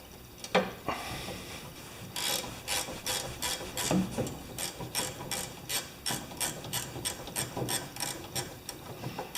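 Hand wrench ratcheting off a steering bolt on a John Deere tractor, a close run of quick, evenly spaced clicking strokes with brief pauses, no talking.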